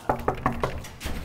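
Four sharp knocks on a door in an even, quick rhythm, close and loud, followed by a brief thump at the end with no voices.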